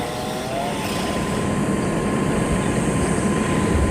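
Tree trimming by a bucket truck crew, heard as a steady, loud mechanical drone with broadband engine and cutting noise holding continuously throughout, no voices.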